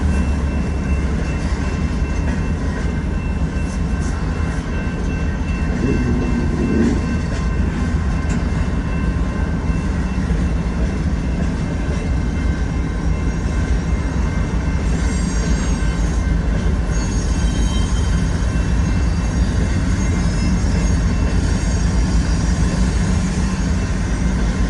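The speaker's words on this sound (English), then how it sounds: "And there's a train heading south now. Behind this train, it is another loaded coal train." A loaded southbound coal train rolls steadily past, its broad continuous rumble and wheel noise filling the scene at close range with no pauses, faint squeals riding on top and no voices.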